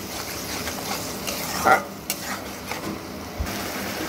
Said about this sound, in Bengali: এইভাবে 5 থেকে 7 মিনিট মশলার সঙ্গে টক দইটা কষিয়ে নিচ্ছি।